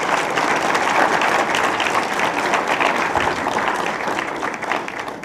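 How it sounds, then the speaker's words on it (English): A lecture audience gives a sustained round of applause at an annual development trust lecture, full and fairly loud clapping from many people that keeps an even level throughout. "You really deserve a round of applause there."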